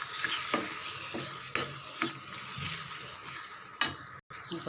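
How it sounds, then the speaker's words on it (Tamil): Ground tomato paste being stirred into sautéing onions in a pan for a potato capsicum gravy: a soft steady sizzle with a few spoon scrapes and knocks against the pan, close and without talking. "இன்னும் கொஞ்சம் ஜாரில் இருந்த தக்காளி விழுதையும் நல்லா சேர்த்து"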